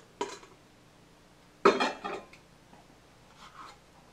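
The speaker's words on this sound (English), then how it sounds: "Now we're going to take the dough and just scrape it right out" Bread dough scraped out of a bowl onto a board, heard as two close scraping, clattering strokes followed by fainter scuffing.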